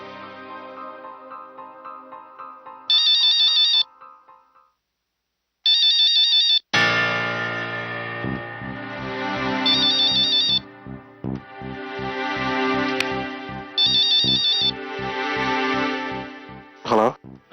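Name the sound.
phone ringing while calling Arjun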